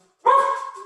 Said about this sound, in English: Nah, that's my dog